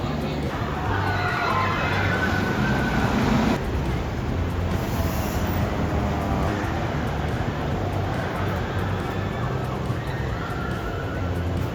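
Continuous loud rushing and rattling of the Thunder Dolphin roller coaster at Tokyo Dome City in motion, with wind noise, rumbling wheels and occasional faint shouts throughout.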